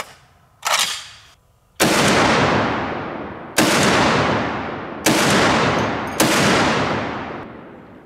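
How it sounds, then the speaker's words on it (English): Full metal jacket tracer rounds from a .50 caliber rifle fired at a 150-pound slam ball: about five very loud, close blasts, each with a long rolling echo, spaced one to two seconds apart, with no voices. "I'm gonna dump 10 rounds of Full Metal Jacket tracers into this thing."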